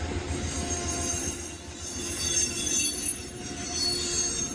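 Amtrak's Maple Leaf passenger train squeals along the rails at Depew near Buffalo in winter, high thin wheel screeches drawn out over a low rolling rumble, moderately close and continuous.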